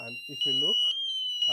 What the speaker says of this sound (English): So that's the smoke alarm.